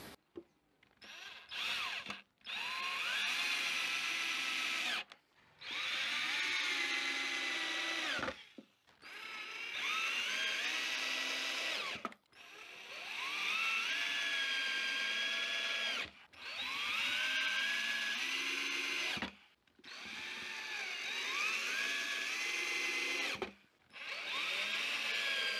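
A power drill drives screws into a wooden box for native Jandaíra bees, its whining motor running in about seven long bursts, each a few seconds, with short silent pauses between them.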